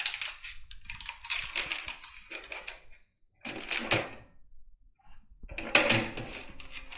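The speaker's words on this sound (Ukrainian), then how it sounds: "Це прилад, який має нагріваючий елемент, який розплавляє, тим самим запаковуючи ось цей конвертик." A heat sealing machine in a dental clinic seals a sterilization pouch with crackling, crunching bursts separated by short pauses, close and fairly loud, with no talking.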